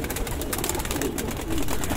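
Soft, low cooing of high-flyer pigeons, including Rajasthani, Saharanpuri and Golden breeds, against a busy background, a short burst of throaty calls.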